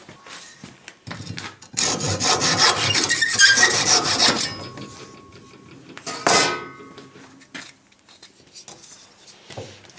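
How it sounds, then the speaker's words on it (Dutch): Hand saw cutting a wooden dowel to length, a dense burst of rasping strokes for about two and a half seconds, then a brief second pass and a few light knocks, close and clear with no talk. "Ik zaag de lengte eraf."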